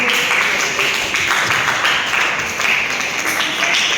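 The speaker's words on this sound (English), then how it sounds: "please give a thunder round of applause for Abhiraj Pal Singh" An audience at a summer karate camp closing ceremony claps steadily in a dense, loud round of applause that fills the whole stretch without pause.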